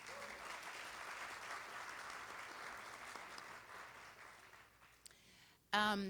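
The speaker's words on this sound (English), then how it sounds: "so a round of applause for them" A room of people at a powwow dinner applauds steadily, the clapping slowly fading out before a voice starts speaking.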